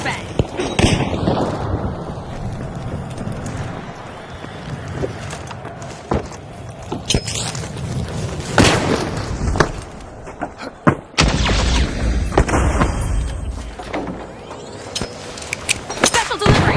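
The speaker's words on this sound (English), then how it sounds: "Toss the fire! Frag out! Flash and frag! Throwing a flashbang!" Frag grenades and flashbangs go off in a video game, several loud booming blasts and sharp bangs spread through dense gunfire-like clatter, with a voice calling out over the noise throughout.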